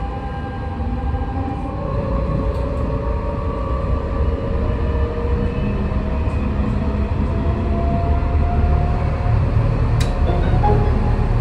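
Riding inside a Munich tram on the city's shortest line: a steady rumble and whine of motors and rails runs throughout, fairly loud and continuous, with faint squeals and a few brief clicks.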